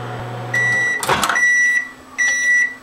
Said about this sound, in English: Put it in the microwave for about 20